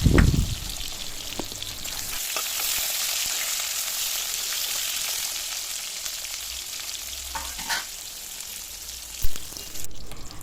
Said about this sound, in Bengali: এবারে কড়াইয়ে তেল দিয়ে আমরা প্রথমেই পটলগুলো লাল লাল করে ভেজে নেব।